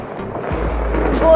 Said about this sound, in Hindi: इतना लंबा पटाखा